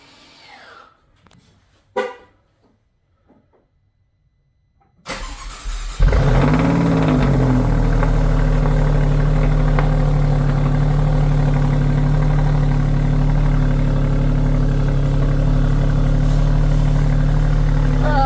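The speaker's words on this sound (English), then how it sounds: "first let's go ahead and remote start this thing. See if it turns on." An Alfa Romeo Stelvio Quadrifoglio is remote started: after a few faint clicks and a short beep, the engine cranks, flares up loudly, then settles into a steady, deep, close idle that continues alone.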